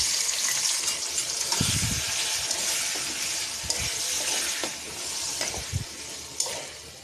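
Cooked beef added to hot oil with garam masala, chopped onion and olive pickle in a wok, a steady loud sizzle with occasional stirring scrapes and clinks throughout.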